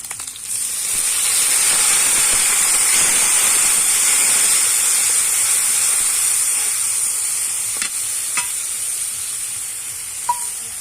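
Sesame seeds hit a hot pan and sizzle loudly and steadily, a constant bright hiss of frying with a few faint clinks near the end.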